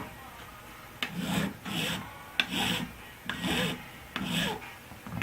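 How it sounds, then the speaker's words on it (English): A metal file works the bevel on the bass-side fret end of a guitar, giving five rasping back-and-forth strokes, close and distinct, with brief pauses between them. "we'll file the bevel on that"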